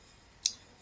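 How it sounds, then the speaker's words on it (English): A single short, sharp computer mouse click on an OK button in CorelDraw, crisp and close against a quiet background. "let me just click OK here"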